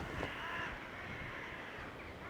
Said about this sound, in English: It's like full of birds up there.